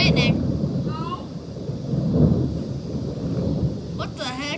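Thunder from a loud thunderstorm rolls as a deep, sustained rumble over several seconds, with rain and wind noise around it and brief voices at the start and end.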